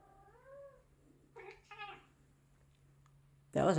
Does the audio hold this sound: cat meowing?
yes